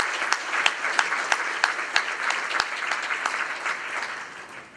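Moderate applause from a civic audience honoring veterans at a city address, a few nearer distinct claps punctuating steady clapping that fades toward the end.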